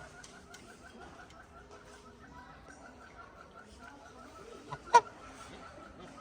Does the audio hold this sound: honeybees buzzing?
no